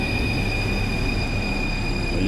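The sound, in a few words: metro train pulling into the station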